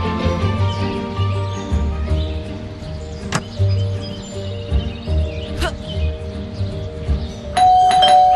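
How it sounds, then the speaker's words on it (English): Doorbell in the video game Scary Teacher 3D, a clear chime sounding twice over a steady tonal game backdrop, followed by a brighter chiming tone near the end; no voices. "There goes that stupid bell again."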